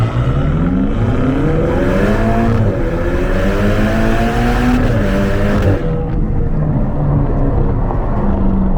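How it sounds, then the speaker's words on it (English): Ferrari Portofino accelerating hard from the driver's seat, the engine note climbing steadily through the gears with loud, continuous revving and brief dips at each shift, close and dominant throughout. "If and when you want to rip on this car, get glued to the back of your seat, it can easily do that"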